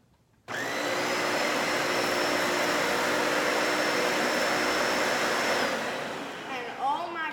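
A Bissell Powerforce Helix Turbo upright vacuum cleaner switches on abruptly and drones at a steady high-pitched whine for several seconds before spinning down, close and fairly loud, with a voice briefly heard at the end.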